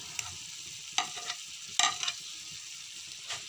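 Tomatoes are stirred into frying capsicum and potatoes, a soft sizzle under a few distinct scraping stirs of a spoon against the pan, close up and without speech.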